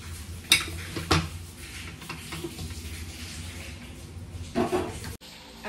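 A metal cooking pot set down on a kitchen stove, with a couple of sharp clanks and clinks near the start and another knock later, close against quiet background, no talking.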